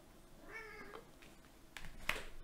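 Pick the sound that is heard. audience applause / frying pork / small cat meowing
small cat meowing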